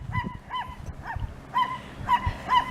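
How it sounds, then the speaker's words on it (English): A husky dog on a chicken farm lets out a series of short, high yelping, honk-like cries, about six quick calls close by against a low rumble in the background. "And then she got a husky."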